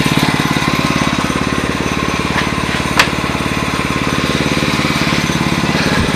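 A MotoVox minibike engine runs steadily after a cold start, a close, loud, rapid putter that holds an even rhythm throughout, with a single sharp tap about halfway through.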